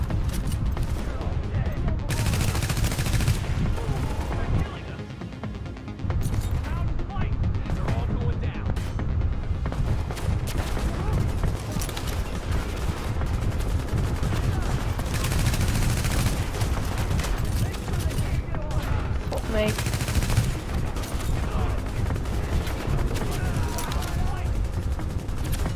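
Heavy turret gunfire in Tom Clancy's The Division, sustained rattling bursts and booming impacts rolling through a combat scene, loud and continuous with brief lulls, with voices talking over the shooting.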